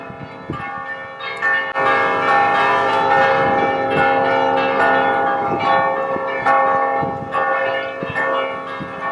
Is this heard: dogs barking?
no